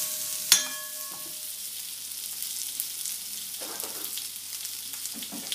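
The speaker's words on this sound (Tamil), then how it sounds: "நம்ம மஞ்சள் தூள், மிளகாத்தூள், அதை நம்ம ரெண்டுத்தையும் போட்டு ஒரு கிண்டு கிண்டிக்கலாம்." Turmeric and chili powder being stirred into tomato sambar in a pan: a brief sharp clink near the start, then a soft steady sizzle with faint scraping stirs, quiet and close.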